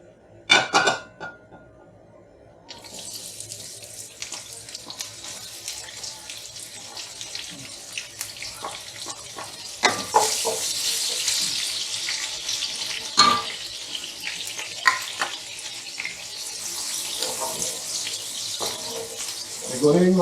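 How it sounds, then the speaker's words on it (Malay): Chopped onions sizzle in hot oil in a pan, a steady hissing crackle that runs beneath a cook's talk, with occasional utensil clinks. "Tumis bawang kita sampai layu."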